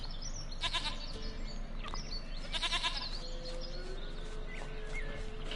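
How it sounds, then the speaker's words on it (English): Goat bleats from The Witcher 3 video game, two short wavering calls close by over a steady ambient bed of wind and faint birds. "Goat of mine, dearest, sweetest goat."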